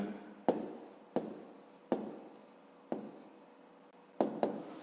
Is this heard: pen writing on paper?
yes